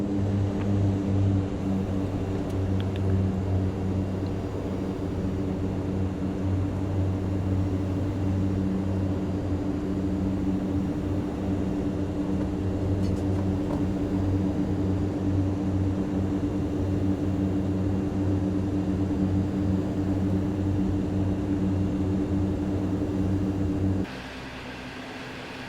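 From inside the cabin of a Mitsubishi MU-2 turboprop on takeoff, a steady, loud droning engine hum with strong tonal layers continues for a long stretch, then eases and softens near the end, with no talking.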